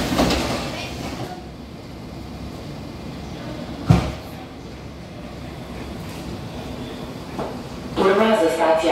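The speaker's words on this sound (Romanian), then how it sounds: "Atenție, se închid ușile." An Astra IVA car on the Bucharest metro shuts its doors with a sharp thump and pulls away, a steady hum and rush of the running train following, with a chime and a recorded announcement voice near the end.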